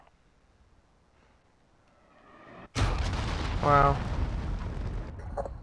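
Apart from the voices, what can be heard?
enemy cruise missile strike exploding in a video game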